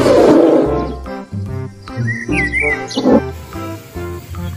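A toy bear gives a loud electronic roar, a growling, rasping burst with chirping birdlike sounds layered over it, close and alone.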